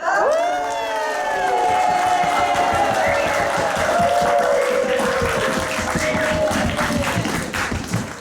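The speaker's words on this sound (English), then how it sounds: "honoring him with a completely unwarranted yet excessively raucous second round of applause" A large audience at an improv comedy show cheers and whoops loudly and continuously, with clapping and shouts blending into a sustained roar.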